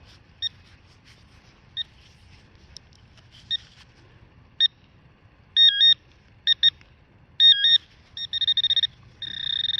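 Short electronic beeps from a metal detector start out sparse and irregular, then turn into a quick run of warbling tones near the end over a low rumble; the last beep comes from a shovel.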